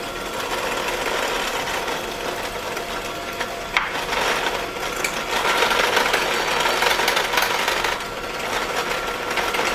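Electric mixer whirring steadily as milk, vanilla essence and cinnamon spice are blended for a spiced mango tres leches cake, a loud buzzing drone that shifts pitch slightly with a brief click partway through.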